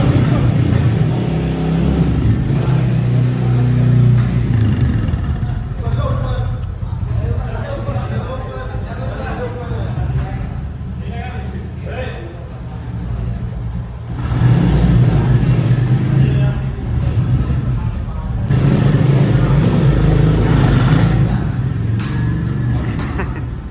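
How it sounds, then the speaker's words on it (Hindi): Repaired BS6 motorcycle engine running at a mechanic's workshop, a loud steady idle with a couple of revving bursts, heard under frequent nearby talk. "इंजन बांधा था, कैसा लग रहा है? साउंड भी सही आ रहा है"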